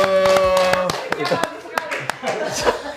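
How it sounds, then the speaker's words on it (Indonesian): An audience at a university admissions podcast taping claps in a short burst of sharp, close hand claps, then scattered claps with laughter and talking mixed in. "Tepuk tangan dong semuanya"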